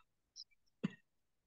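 A single short cough or throat clearing sounds close but quiet, preceded by a couple of faint clicks, then silence.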